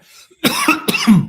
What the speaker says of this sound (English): So I'm going to cough for the next 30 seconds.